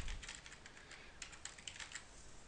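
Fingers tap out a rapid, irregular run of crisp key clicks on a computer keyboard, close and fairly quiet, while entering settings into a webcam app.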